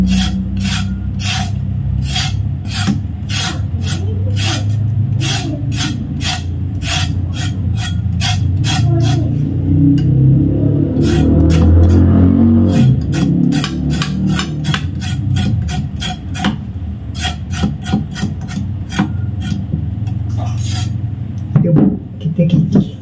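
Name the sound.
scraping peeled cassava for tapai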